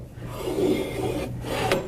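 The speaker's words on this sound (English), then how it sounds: "we will slide the beater back into the cylinder and turn until we feel the beater drop completely into its slot" The beater of a Carpigiani 191 soft-serve freezer slides back into its metal cylinder, giving a short close rasping scrape with a faint hum underneath.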